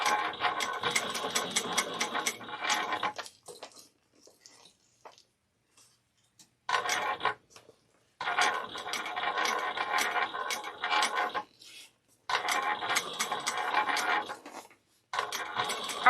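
A sewing machine stitches and backstitches in several bursts of rapid mechanical clatter, each run lasting a few seconds, separated by short quiet pauses while the fabric is adjusted.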